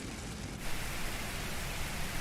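Steady rain hisses over a snowy airport in a Boeing 747 flight simulator, a dense even wash of droplets that swells slightly after a brief quieter opening and then holds constant.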